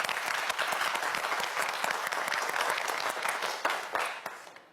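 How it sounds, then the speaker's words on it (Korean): Studio audience on a Korean science quiz show claps to encourage a student contestant, a brisk burst of many hands clapping that holds steady and then tapers off at the end, with no speech. "저희 박수 한번 보내줄까요?"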